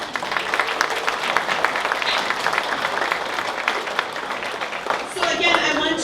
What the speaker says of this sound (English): I want more applause for him.